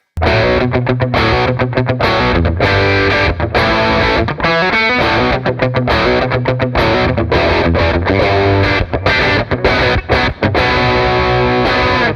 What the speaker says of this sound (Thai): ตอนแรก ๆนะนี่ลองเสียงแตก